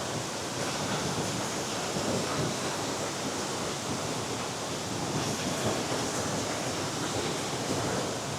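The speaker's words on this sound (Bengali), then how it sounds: "আর এই মুহূর্তে জলের স্রোত দেখুন," Rushing stream water near Mawlynnong village, a steady, close broadband roar of flowing water that holds constant throughout with no voices.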